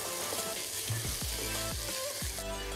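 Onion and tomato masala with salt, turmeric, chili powder and curry powder sizzling steadily in a pan, with repeated scraping strokes of a spoon stirring through it.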